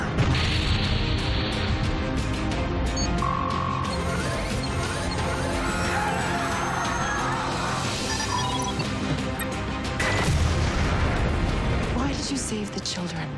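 A sci-fi starship weapon launches on command in a TV space drama, heard as a loud sustained rumbling burst and crash layered with dramatic effects, briefly swelling again toward the end.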